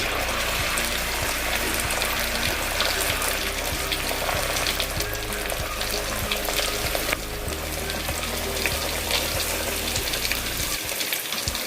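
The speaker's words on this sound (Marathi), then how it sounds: "आता तेल चांगलं तापलं आहे, मी सावकाश त्याच्यामध्ये वडा सोडतो." Vada dropped into hot oil, frying with a loud, dense, continuous sizzle and crackle close by, steady for the whole stretch and fading out at the very end.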